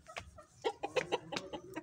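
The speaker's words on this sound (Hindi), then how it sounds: "ये सील मुर्गी है," A hen clucks close by, a quick run of short throaty clucks in an uneven pattern with slight outdoor background.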